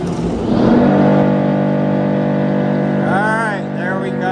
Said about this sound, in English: Now the unloader's going to turn on.